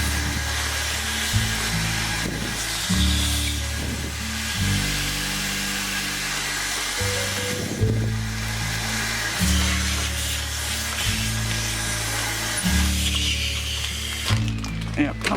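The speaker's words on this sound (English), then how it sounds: "Insert my vacuum cleaner." A vacuum cleaner motor drones steadily nearby, sucking air from a storage bag, its whirring pitch shifting up and down as the airflow changes.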